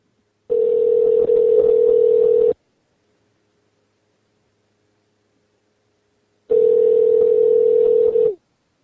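A telephone tone sounds while a call is being placed: two loud, steady ringback bursts of about two seconds each, separated by several seconds of near silence.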